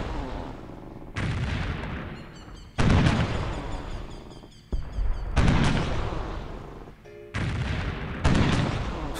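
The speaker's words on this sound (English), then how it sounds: "The bombardment has commenced." Civilization 3 artillery bombardment in a strategy game: several heavy booming salvos of cannon fire in bursts separated by short pauses, loud and close, with rumbling decay after each volley.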